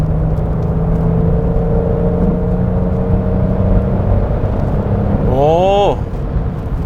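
Genesis GV70 3.5 gasoline turbo SUV engine accelerating hard from highway speed, a steady cabin drone rising into a brief climbing rev sweep near the end, heard from inside the car.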